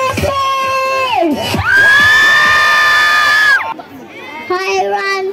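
A large crowd at a live cultural festival show cheers, whoops and shouts loudly and continuously, with children's high voices prominent, swelling to a sustained roar before dropping and then rising again.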